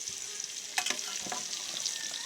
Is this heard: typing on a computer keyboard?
no